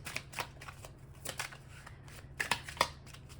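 Tarot cards are shuffled by hand close up, giving a run of quick, soft riffling bursts and light slaps in an uneven rhythm, with no talk over them.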